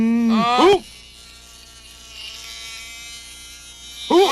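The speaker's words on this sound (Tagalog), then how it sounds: "Isang bubuyog!" A cartoon bee buzzing in a Doraemon episode: a steady, thin, high drone lasting a few seconds between bursts of excited cartoon voices.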